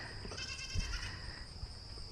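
A little blue-eyed goat gives a short, close bleat over a steady background hum of insects.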